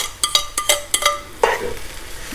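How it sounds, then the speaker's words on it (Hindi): Chicken chow mein with egg, carrot and vegetables being stirred and tossed in a hot pan, with a run of quick scraping clatters followed by a steady sizzle, close and fairly loud, without talk. "अब आपने इसको सबको मिक्स कर लेना है और साथ में फ्राई करना है।"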